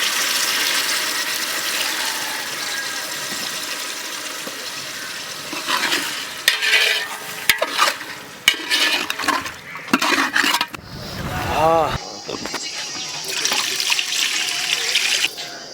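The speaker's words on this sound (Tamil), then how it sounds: "சிக்கன் வேற லைட்டாக தண்ணி ஊற்றிக்குவோம்." Water is poured into chicken frying in a pot while cooking Chennai-style basmati chicken biryani: a steady loud sizzle, then a burst of hissing and bubbling as the water hits the hot pan, settling into stirring and sputtering.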